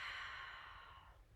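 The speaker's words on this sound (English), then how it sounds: "Open mouth, exhale, let it go." A single long exhale through an open mouth during a slow-flow yoga practice, a soft breathy rush that fades over about a second, close and quiet.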